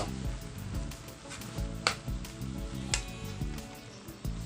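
Papaya noodles cooked adobo-style, Filipino pancit fashion, stirred in a pan: a steady low sizzle with soft scraping and clinking as the utensil moves, plus a few sharper scrapes, fairly quiet and continuous.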